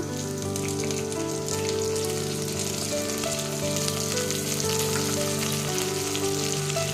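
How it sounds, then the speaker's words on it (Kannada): Onions fry in a pan for paneer sweet corn pulao, giving a continuous even sizzle with soft crackle at moderate level, alone without talk. "ನೋಡಿ, ಈರುಳ್ಳಿ ಚೆನ್ನಾಗಿ ಫ್ರೈ ಆಗಿದೆ."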